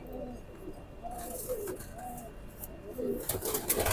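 A teddy pigeon coos nearby in soft, rolling, repeated calls, with some rustling and handling noise growing louder toward the end.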